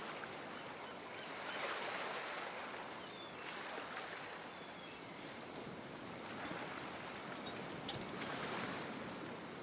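Ocean surf washes continuously in the dating-sim game Hooked On You, a broad soft rushing roar that swells and recedes gently for the whole stretch with no talking.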